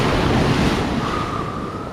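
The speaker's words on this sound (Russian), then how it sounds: "Еще небольшой шторм" Sea waves break on a beach in Orjonikidze, Crimea, during a small evening storm. The surf makes a steady, loud rushing wash with wind noise buffeting the microphone, and no one speaks.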